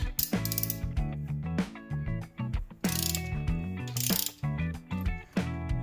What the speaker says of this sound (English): I'm going to loosen this rocker arm nut right here